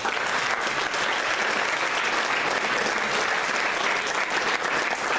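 Sustained, dense applause from a colloquium audience fills the room at a steady, loud level from start to finish, with no voices over it.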